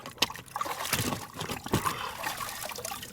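Water trickles and splashes as a gun receiver is rinsed, an uneven run of liquid dribbling and pouring close by with brief louder splashes.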